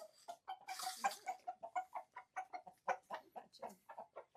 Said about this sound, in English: We're gonna have a little bit of an adjustment period with all these chickens